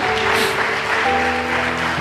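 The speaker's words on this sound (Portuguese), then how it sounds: "Quantos podem aplaudir Jesus?" Congregation applause at a church service, a dense steady wash of clapping filling the space for two seconds, with a sustained organ or keyboard chord underneath.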